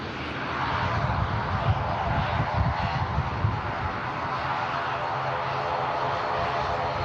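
An Aer Lingus ATR 72 turboprop in classic colours passes at Manchester Airport. Its engine drone is steady and moderately distant, swelling a little near the start and then holding even with no talk over it.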